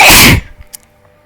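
One loud, close sneeze bursts out abruptly and cuts off, followed by a few faint small noises in an otherwise quiet room.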